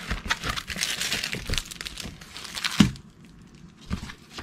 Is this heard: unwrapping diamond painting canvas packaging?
yes